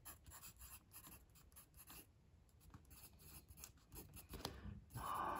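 A Koh-i-noor Hartmut 2B pencil writing on Karst stone paper gives close, continuous scratchy strokes in short bursts, with brief pauses between them and no voices.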